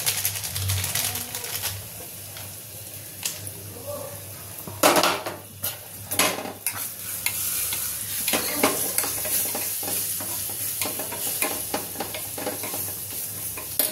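Dal frying in a pan while Kashmiri red chili powder is stirred in, giving a low steady sizzle under intermittent scraping and clinks of a spoon against the pot, close by in a home kitchen.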